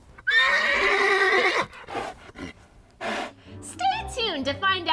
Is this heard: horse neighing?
yes